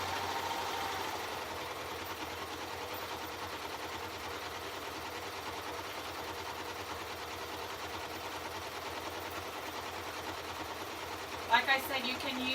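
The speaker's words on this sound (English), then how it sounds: "I'm just top stitching that seam down." A sewing machine runs steadily as it top stitches a seam on a garment, giving a continuous mechanical whir and hum for the whole stretch, with a few brief clicks near the end.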